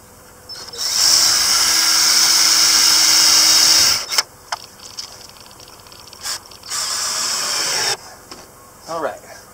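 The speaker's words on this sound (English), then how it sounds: "I'm going to drill through here up into here, and that's where I'm going to put the screw to secure that." A power drill bores through an awning board to make a hole for a securing screw. It gives a steady high whine for about three seconds, then short bursts and a second sustained run, close and loud.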